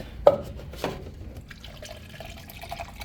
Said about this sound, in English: And that is just all nasty water